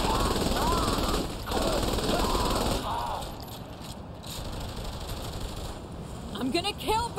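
Rapid assault rifle fire in Saints Row The Third rattles through a dense, noisy battle, with people talking over the shooting and a fast stream of shots that continues to the end.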